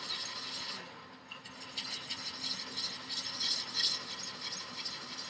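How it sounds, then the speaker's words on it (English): A V gouge cutting into wood on the nose of the tool, a close, continuous scratchy rasping with small ragged bursts, fairly quiet and without talk. "now I'm cutting on the nose, basically, with this V gouge"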